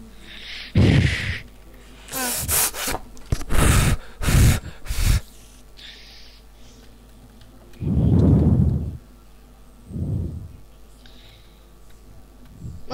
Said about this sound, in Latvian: Šausmīgi skaļi elpo.